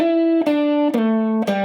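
Electric guitar playing a blues intro lick, four sustained bright notes picked one after another with slight vibrato, close and clear with no talking.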